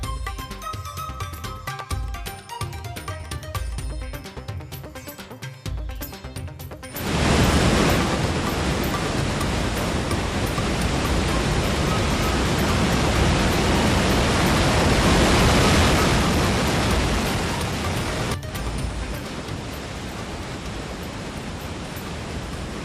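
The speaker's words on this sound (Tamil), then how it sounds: "பெங்களூரு அருகே சிவசமுத்திரத்தில் பிரம்மாண்டமாக காட்சியளிக்கும் பரச்சுக்கி அருவி" Parachukki waterfall on the swollen Kaveri at Shivanasamudra roars as a dense, steady wash of falling water, close and loud, preceded by a few seconds of busier mixed ambience before the torrent takes over.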